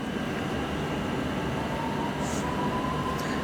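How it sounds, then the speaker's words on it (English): A London Underground train bound for Ealing Broadway pulls out of Upminster Station on a winter afternoon, a steady rail rumble with faint high squeals near the end. "We got this train for Ealing Broadway that's leaving."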